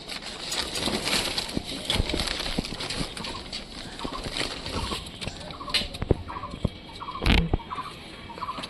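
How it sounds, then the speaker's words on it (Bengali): Chickens let loose outdoors peck at cooked rice, giving soft scattered clucks and short chirpy calls over a steady rustling outdoor background, with a few light taps and one brief louder burst near the end. "মুরগিগুলোকে এখানে ছেড়ে দিলাম তো এখানে খাচ্ছে ভাত হয়েছিল ভাত খাচ্ছে"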